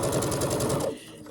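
A sewing machine stitches a quarter-inch seam through three joined pieces of fabric, its needle running in a steady, fast rhythmic whir close by before it stops.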